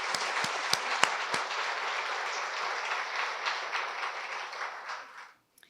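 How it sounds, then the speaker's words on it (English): Luncheon audience at an International Women's Day event applauds its sponsors, a steady wash of clapping with a few sharp close claps at the start, holding for about five seconds before cutting off. "Could we have a round of applause for our sponsors?"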